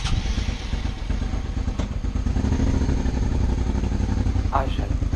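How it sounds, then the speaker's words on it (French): A motorcycle engine rumbles close by in a steady idle that swells slightly midway, with some clatter and a brief faint voice or tone near the end. "j'adore entendre le bruit de ma moto démarrer"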